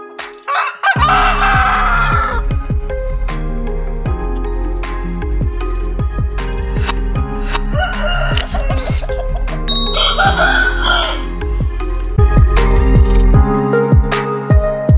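Roosters at a rooster farm coop crow loudly and repeatedly, several birds overlapping close by, with clucking between the calls.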